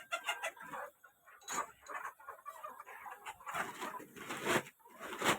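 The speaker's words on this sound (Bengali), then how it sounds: "গাইস, মুরগি অনেকে আছে আমাদের এই ফার্মে।" Chickens on a poultry farm with about two thousand birds cluck and squawk continuously, a busy chorus of overlapping calls rising and falling, with no talk.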